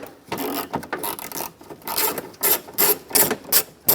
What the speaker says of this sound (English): Using a 10mm socket, we're going to loosen up the bolt right here.